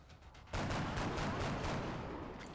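Covering fire in the video game XCOM Enemy Within, a sudden loud burst of rapid gunfire that starts abruptly and rattles on as dense, sustained shooting.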